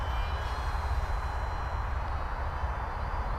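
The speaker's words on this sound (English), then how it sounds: "Pretty much full throttle there now" A Dart RC model plane flying at full throttle gives a steady, loud motor drone that holds evenly throughout, with no voices.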